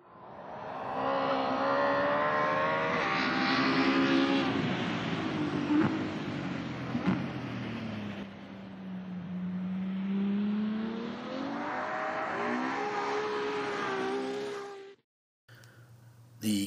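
A car slowing down under braking, its engine tone sliding downward in a continuous hum with a brief whoosh, then a sudden cutoff near the end followed by a short burst of noise.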